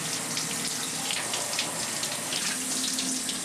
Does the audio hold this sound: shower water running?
yes